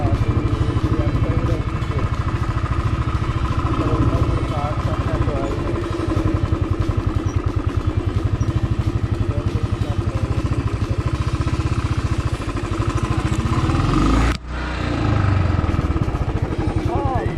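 A motorcycle climbs a slippery, muddy hill road at Ananthagiri Hills, its engine chugging in a rapid rhythmic pulse close up, with riders talking over the steady engine noise.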